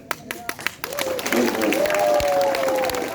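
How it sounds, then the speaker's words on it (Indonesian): At a Scout anniversary assembly, a crowd breaks into clapping after a few scattered early claps, swelling into a fuller burst of applause with cheering and voices mixed in. "Tepuk tangan."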